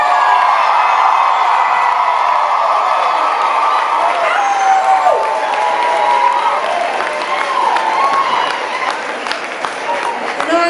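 A concert crowd at The Orange Peel in Asheville applauds and cheers for a band member, with steady loud clapping and scattered whoops throughout, a voice speaking over it.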